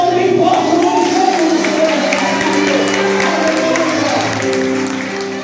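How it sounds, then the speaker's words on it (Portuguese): A church congregation at a deacon consecration service applauds loudly, a dense wash of clapping and crowd voices under organ or keyboard music and singing, continuous and near. "levanta a mão e aplaude bem forte"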